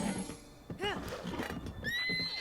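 A horse in The Legend of Zelda: Breath of the Wild lets out a loud, wavering whinny partway through, with game background noise around it and a brighter tonal sound near the end.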